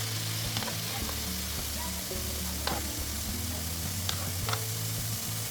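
Round steak beef bites sizzling in a pan for a creamy garlic butter dish, a constant close crackling fry with occasional stirring clicks and a low background hum, no speech.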